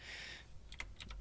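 Brief typing on a computer keyboard while flashing a Dell R620 RAID controller, three or four quick key taps close by after a short burst of faint hiss.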